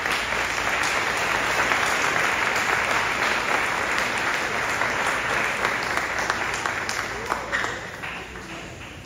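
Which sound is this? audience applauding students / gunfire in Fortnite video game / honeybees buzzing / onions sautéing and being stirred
audience applauding students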